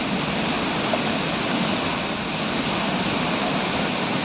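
Heavy monsoon rainwater pours off the hills onto a Delhi road like a waterfall, a dense, steady, loud rushing roar that fills the whole scene without pause.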